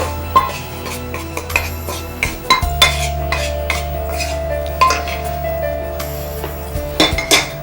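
Roasted ingredients for a dry prawn chammanthi, including dried shrimp and coconut, are shifted into a vessel with scattered clinks and scrapes of a utensil against metal over a low kitchen hum.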